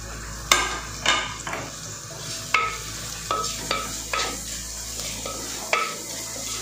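Chopped onion and tomato sautéing in a pan for a Pondicherry-style fish curry over medium flame, a steady sizzle broken by about ten sharp scrapes and taps of a stirring spoon against the pan, close and clear with no talk.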